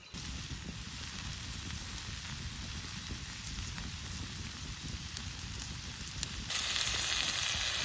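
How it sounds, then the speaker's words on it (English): Food sizzles and crackles steadily in a hot pan, a close, continuous frying hiss that grows slightly louder near the end. "You hear that sizzle?"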